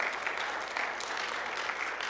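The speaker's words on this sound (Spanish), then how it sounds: "Dale un aplauso de alabanza a nuestro Señor." Church congregation clapping in praise during a Spanish-language prayer teaching, a steady wash of applause filling the room, moderately loud and without speech.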